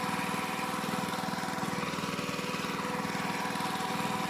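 A tractor engine chugs steadily while ploughing a field for sowing corn, a continuous mid-pitched rattling drone with a fast regular pulse, moderately distant and unbroken, no talking.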